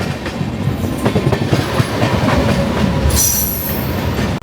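Kandari Express train running through Kolaghat station on the Howrah to Digha route, a steady loud rumble with rapid wheel clatter and rattling cars, then a sharp metallic squeal rising in the last second and a half.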